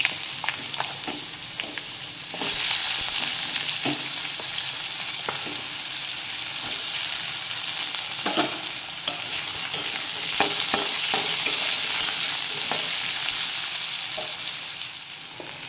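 Potatoes and jackfruit seeds frying in a wok: a steady, close sizzle runs throughout, with occasional scraping knocks from stirring and no voices.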